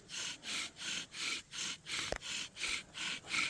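A wooden fire saw is rubbed back and forth for friction fire-making, a steady rhythmic rasping of about eight even strokes, fairly quiet and close, with no voices.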